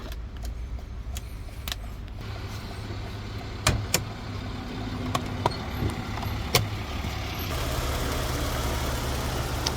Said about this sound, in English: Here's a look under the hood. The vehicle is currently running. Engine sounds good.